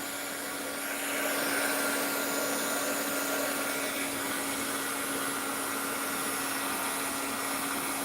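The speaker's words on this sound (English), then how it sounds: "Sorry for the noisy air gun." A noisy air gun blows continuously while resin jewelry is made, a steady, loud, broadband whoosh with a faint whine, starting after about a second and holding evenly throughout without speech.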